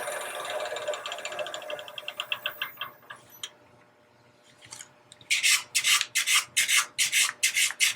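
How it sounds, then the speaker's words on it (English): Hand sanding on a wooden box makes rhythmic rasping strokes, first a run of quicker rubs that fade, then a pause, then louder, steady back-and-forth scrapes close to the microphone. "Do a little bit more sanding here to take care of some of the marks."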